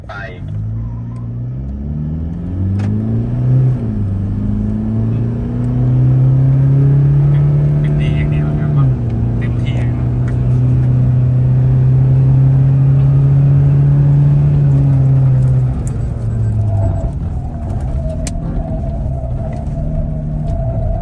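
Toyota Revo GR Sport pickup accelerating hard, its engine note rising loudly in pitch, holding a strong sustained drone, then easing off near the end.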